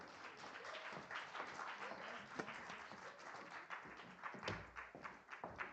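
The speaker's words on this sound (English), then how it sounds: "Let's give them a round of applause." An audience applauds a panel at a community empowerment event: a steady, dense wash of many hands clapping at moderate volume, swelling slightly toward the end.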